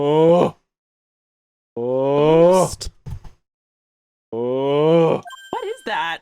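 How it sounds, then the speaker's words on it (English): A snoring sound effect from TikTok plays as three drawn-out, groaning vocal snores separated by silence. Short, breathy bursts follow the last two snores. "The snoring sound from like TikTok."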